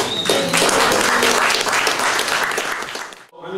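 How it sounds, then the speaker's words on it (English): An audience at a Portland neighborhood emergency preparedness meeting gives a round of applause, a loud, continuous wash of clapping lasting about three seconds before cutting off abruptly. "So can we give a round of applause?"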